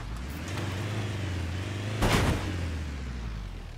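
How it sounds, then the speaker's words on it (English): A car smashes into another car in the video game Rust, a single loud thump and crash that cuts through a steady low engine hum, which keeps droning before and after the impact. "I think we crashed into our other car."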